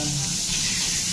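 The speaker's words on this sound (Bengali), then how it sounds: "চিকেন সসেস ভাজা হচ্ছে গরম তেলে।" Chicken sausages sizzle in hot oil with a dense, steady hiss that stays loud and close for the whole short stretch, with no voices over it.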